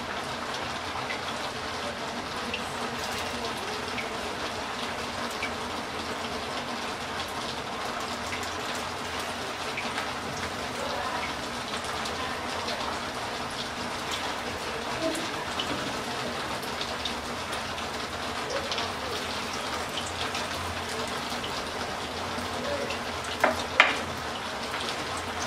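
Cabbage shami kebabs dipped in egg fry in hot oil, giving a steady, dense crackling sizzle that runs unbroken and fairly close, with a few sharper pops near the end and no voices.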